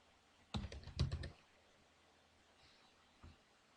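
Computer keyboard typing while entering text into a spreadsheet cell for a CAD drawing: a quick burst of close, crisp key clicks lasting under a second, then quiet room tone and one last isolated tap.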